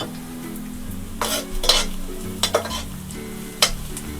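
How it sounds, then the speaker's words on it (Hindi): Sliced onions fry in a pan with whole garam masala of black and green cardamom, cloves and black peppercorns, under a low steady sizzle, while a spoon scrapes and stirs in several sharp bursts. "प्याज में हम चमचे चलाते रहेंगे ताकि प्याज का कलर एक जैसा आए। लाइट गोल्डन फ्राई करेंगे प्याज को।"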